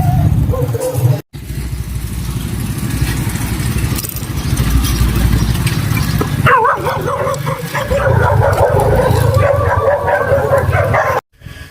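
Several dogs bark and yip loudly at close range in a street square, in rapid overlapping bursts over a rough, noisy background.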